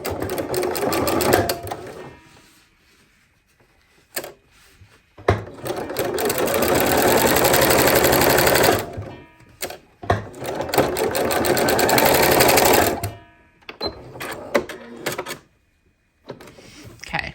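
A sewing machine quilts denim quilt blocks made from fabric scraps, its needle rattling in fast, loud mechanical bursts of a few seconds each, broken by short pauses as the fabric is repositioned.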